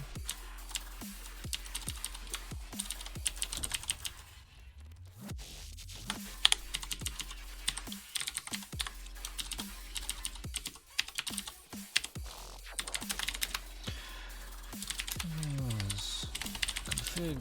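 Rapid typing on a computer keyboard while writing Go code, with clustered key clicks, short pauses and bursts of fast strokes throughout, fairly close and moderately loud.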